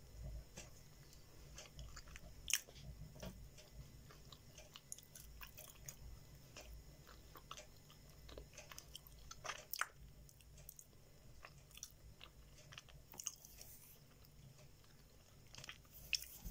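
Close, quiet biting and chewing of edible clay, with soft crunches and wet squishy mouth sounds repeating irregularly, occasional sharper bites standing out, no talking.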